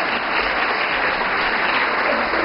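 A congregation at a homily breaks into loud, sustained applause, a thick continuous wash of clapping from many hands held steady throughout.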